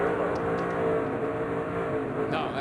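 Onboard engine of a low-running Chevy stock car at the 2007 Daytona 500, a steady loud droning roar holding near full throttle throughout, with a faint voice briefly underneath.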